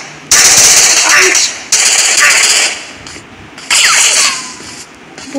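Gunfire from a sniper shooting video game comes in three loud sustained bursts, each lasting about a second or more, separated by brief lulls, with a voice speaking faintly underneath.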